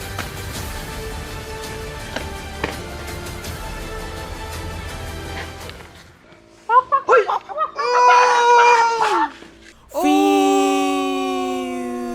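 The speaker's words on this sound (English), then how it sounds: "Chicken now!" Rooster crowing and hen-like clucking come in a burst of loud, wavering calls after a stretch of busy background noise, ending with a long drawn-out crow.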